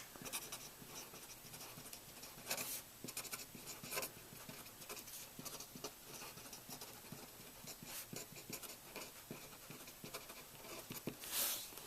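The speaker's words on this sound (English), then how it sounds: "I'll write that down." Pen or marker writing notes on a surface during a statistics lesson, a steady run of scratchy strokes with short taps and pauses, close and fairly quiet, no talking.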